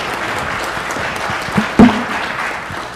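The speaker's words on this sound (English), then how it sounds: "Let's give them another round of applause." Audience applause at a military community gathering, a steady wash of clapping with a couple of louder sharp claps near the middle.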